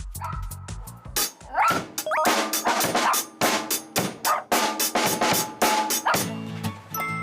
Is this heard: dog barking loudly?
yes